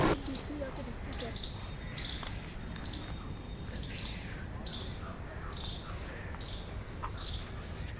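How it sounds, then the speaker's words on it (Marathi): Small birds chirping in short, regular bursts of high notes, fairly faint, over a steady outdoor hiss. "चिमण्यांचा आवाज किती भारी येतो."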